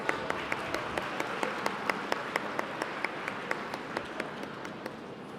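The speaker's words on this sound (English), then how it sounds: "Applause to our panelists." Applause fills a business forum hall for the panelists, a steady mid-level wash of clapping with crisp individual claps standing out at a regular pace throughout.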